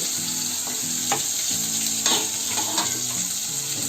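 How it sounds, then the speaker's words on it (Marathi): Ground spice paste with garlic frying in hot oil for a village-style chickpea curry, a loud, continuous close sizzle with light stirring scrapes throughout and no voices. "आता त्याच्यामध्ये आहे ना हा वाटलेला मसाला टाकते"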